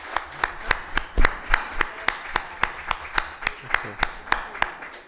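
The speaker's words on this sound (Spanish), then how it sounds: "pido un caluroso aplauso para estos destacados personajes de la caricatura mundial" Clapping at a talk on graphic narrative and caricature, greeting internationally noted caricaturists: a steady, evenly spaced run of sharp, close claps, like a few people clapping, with no talk over it.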